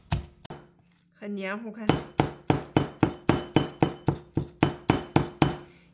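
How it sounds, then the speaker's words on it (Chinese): Garlic being pounded into paste with a stone pestle in a stone mortar, with a brief spoken remark early on, followed by a rapid, even series of loud sharp knocks close by, about three per second. "然后开始捣蒜，把它捣成泥"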